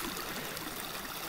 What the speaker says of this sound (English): I piped all this water underground